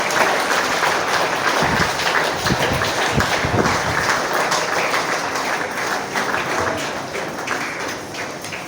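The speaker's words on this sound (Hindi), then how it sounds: "एक बार जोरदार तालियों से मैं उनका स्वागत।" School audience of students and teachers gives loud, sustained applause at an Ambedkar Jayanti celebration, a dense continuous clapping with a few stronger thumps, filling the hall steadily throughout.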